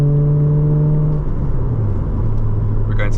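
Car engine droning with a strong resonant hum around 3,000 RPM, loud and steady inside the cabin, pitch dipping slightly then holding.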